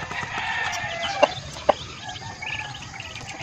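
Chickens on a small farm heard close by, with scattered clucks and two short sharp calls standing out over a steady background of birds and insects, with no talking.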